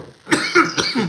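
A man coughs three times in a quick, rough cluster during a live stream, close and fairly loud, with raspy throat-clearing bursts.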